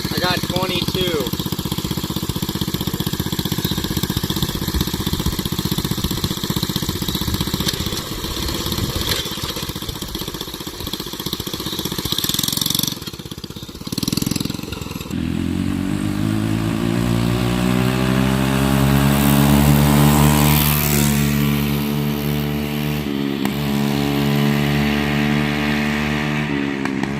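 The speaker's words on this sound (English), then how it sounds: "First test run on the Rat Rod go-kart." A 125cc engine on a rat rod go-kart runs during its first test run. It drones loud and steady, then rises and falls as it revs with pitch sweeps, heard close throughout.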